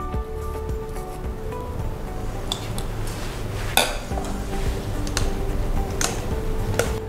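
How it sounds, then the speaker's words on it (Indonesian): A spoon scrapes and clinks against a bowl as Elmer Crunchy Tiramisu spread is mixed, giving a steady, fairly loud stir with scattered sharp ticks of metal on the dish and no talking. "Langsung kita campurkan dan kita aduk sampai semuanya tercampur rata"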